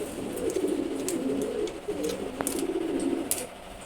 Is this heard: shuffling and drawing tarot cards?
no